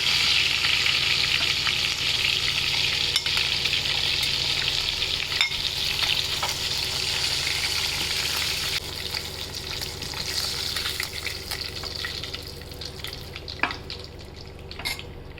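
Snakehead fish frying in hot oil: a continuous loud sizzling crackle, steady throughout with occasional sharper pops and faint utensil clinks, no voices.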